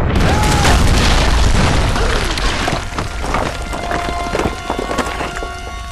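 Loud, booming grenade launcher explosions in the Tomb Raider video game, a rumbling blast at the start followed by further thuds and debris-like crackle over several seconds, with faint game music tones late on.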